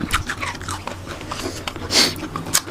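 Close, wet biting and chewing of food, with crunchy bites and smacking mouth sounds repeating irregularly and a louder crunch near the end.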